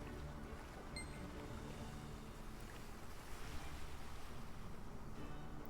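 A ship sails over ocean waves in the Lost Ark video game, with a steady low wash of water and wind at soft volume and a few faint chimes.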